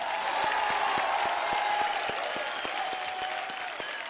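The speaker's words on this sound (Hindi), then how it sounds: "तालियां हो जाए।" A television comedy show's studio audience breaks into steady applause, a dense, sustained patter of many hands clapping at close range with no talk over it.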